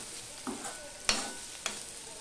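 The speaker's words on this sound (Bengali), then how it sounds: "দেখো বন্ধুরা, আলুটা প্রায় ভাজা হয়ে গেছে।" Small-cut potatoes frying in a pan for a Bengali ridge gourd and potato posto dish, a faint sizzle broken by a few sharp scraping stirs of a spatula, quiet and close with no talking.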